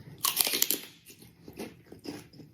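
Crunchy celery is bitten with a sharp, loud crack, followed by several wet, close chewing crunches that grow softer and more spaced out.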